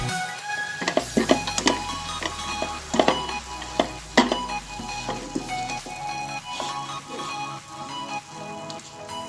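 Banana flower frying in a pan while being stirred, with a steady close sizzle broken by repeated clinks and scrapes of the spoon.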